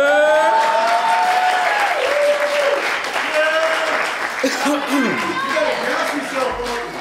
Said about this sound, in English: If you could please give a quick round of applause for Q